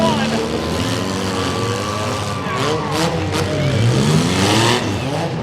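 A youth compact car at the Wood County demolition derby revs its engine hard, pitch climbing and dipping in repeated sweeps, loud and close over a steady arena din.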